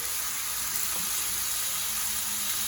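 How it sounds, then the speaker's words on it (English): Pork chunks for chile verde sear in a hot pan with a steady, even sizzle, broad hiss holding constant throughout with no talking. "kind of spread it evenly, let it sear, and cook until it is browned on all sides"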